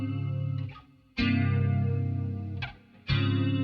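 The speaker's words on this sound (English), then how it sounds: "it sort of sounds like a chorus of guitars even with just the one" Electric guitar played through a Line 6 Helix compressor, giving a thick chorus-like tone with strong bass: three loud strummed chords, each ringing out and fading before the next.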